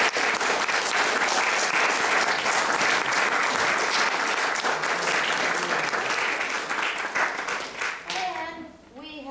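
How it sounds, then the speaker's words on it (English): An audience at a student recital claps warmly in a dense, continuous burst that holds steady, then thins out near the end as a voice begins speaking. "So please give them another round of applause."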